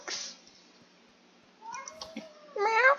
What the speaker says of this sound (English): I don't know why you kitty cats are attempting to jump on this very desk.